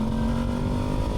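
A motorcycle is ridden along an open road in LA, with a steady, loud engine drone and rushing wind noise and no break in the sound.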